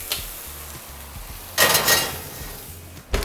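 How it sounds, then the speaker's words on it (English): A metal pan of stew goes into a preheated oven: a brief scraping clatter rises in the middle, and a sharp knock comes at the end over quiet room hum. "So this I'm going to pop right into the oven just like this with the pan and all."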